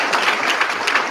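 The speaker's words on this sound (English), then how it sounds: "please let's give our moderator a big hand of applause" Brief burst of applause at a conference, a dense crackle of many hands clapping at once.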